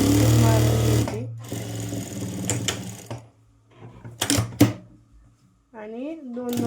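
A sewing machine stitches a blouse seam in rapid bursts, a loud mechanical whirring at first, then shorter runs of stitching and handling clicks, with someone speaking near the end.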